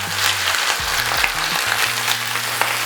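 Bok choy fries in a pan over medium heat, browning on its cut side, giving a steady close sizzle with crackling pops throughout and a low hum underneath, with no talking.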